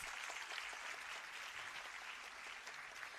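An audience at a Bharatanatyam arangetram claps steadily, a dense, even wash of applause that sounds faint and distant.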